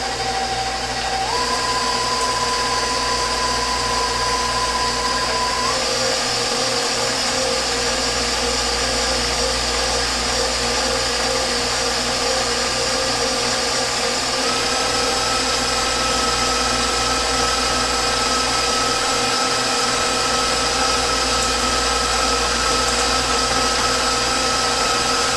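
An electric mixer creaming butter with brown sugar, a loud steady motor whine running without a break and shifting pitch slightly as it works the mixture, with no talking over it.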